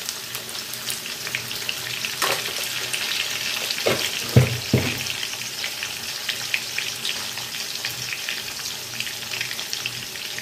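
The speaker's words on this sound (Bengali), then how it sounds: "এর মধ্যে আলুটার মধ্যে আমি একটু নুন আর হলুদ দিয়ে ভেজে নেব।" Potatoes fry in oil with salt and turmeric, a steady close sizzle running throughout with a few louder bursts of crackling and stirring near the middle.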